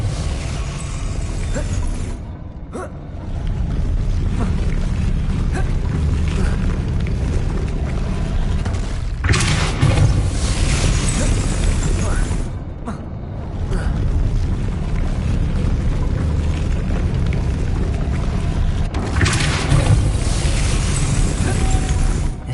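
Confringo blasting spells erupt in Hogwarts Legacy: two sharp fiery bursts about ten seconds apart cut through a steady, dense game soundscape.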